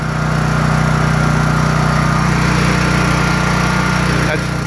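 A 9000 W gasoline generator runs steadily nearby, giving a loud, constant engine drone with a firm low hum and no change in pitch throughout.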